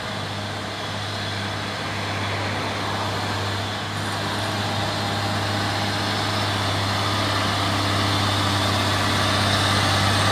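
A Fuso 6x2 box truck labours up a steep hill, its engine droning steadily and loud with a low, constant rumble that builds slightly toward the end.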